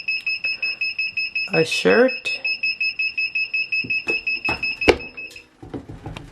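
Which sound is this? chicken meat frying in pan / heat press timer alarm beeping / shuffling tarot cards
heat press timer alarm beeping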